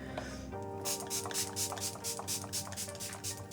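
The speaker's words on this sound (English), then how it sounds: "finishing off with a setting spray or whatever you have" Quick, airy spritzes of MAC Fix Plus setting spray misted onto a face, repeated in a rapid rhythm, close by over a faint background hum.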